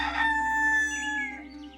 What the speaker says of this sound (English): The rooster started crowing.